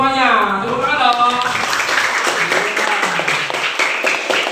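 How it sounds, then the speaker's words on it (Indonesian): Classroom of students clapping, an even patter of many hands that starts beneath a teacher's voice and then carries on alone. "Tepuk tangan dong."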